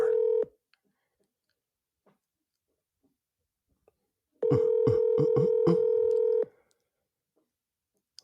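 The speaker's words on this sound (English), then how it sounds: "He's probably wondering why I'm calling." A telephone call being placed: a short tone, then after a pause a burst of repeated electronic ring or dial pulses lasting about two seconds, clear and close, with no talk over it.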